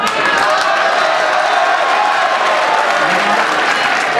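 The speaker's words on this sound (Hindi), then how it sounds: "पूरे सदन से मैं तालियों की गड़गड़ाहट चाहूँगा" A packed hall at a Hindi poetry recital breaks into thunderous applause, a loud, continuous roar of many hands with crowd noise blended in, sustained at full strength the whole time.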